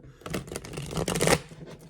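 Tarot cards are shuffled close up in a quick flurry of papery riffles and slaps that builds to a dense burst, then tapers off.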